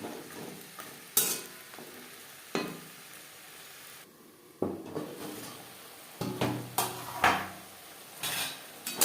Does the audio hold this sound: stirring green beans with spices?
yes